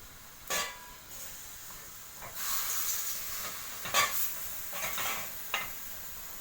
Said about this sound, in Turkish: suyunu salan kıymayı ara ara karıştırıp kavurduk